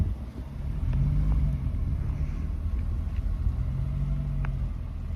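Car accelerating on snow on Venom Power Covert Grip tires, heard as a steady low rumble of engine and road noise from inside the vehicle.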